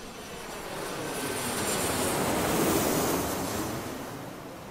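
Ocean waves wash steadily onto the beach at Pantai Montpera in Balikpapan, a broad continuous surf roar that swells toward the middle of the clip, with a faint airborne drone blended into the background and no voices.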